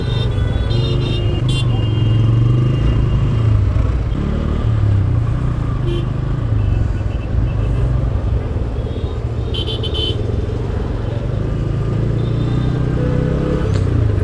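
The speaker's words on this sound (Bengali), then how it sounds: "এত গাড়ি ঘোড়া প্রচুর জ্যাম করতেছে" Dense road traffic jam with cars and motorbikes packed together, a steady loud rumble of idling and revving engines close by with occasional horn toots throughout.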